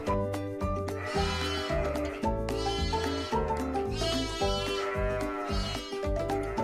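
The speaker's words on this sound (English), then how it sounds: "I hear a sheep." Sheep bleat repeatedly in wavering, drawn-out cries over a steady rhythmic backing of music, loud and continuous throughout.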